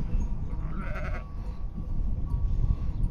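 Black sheep in a flock in Satulung, Maramureș, one clear bleat near the start of the second over a steady outdoor rumble, followed by quieter background noise with no talking.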